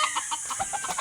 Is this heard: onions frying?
no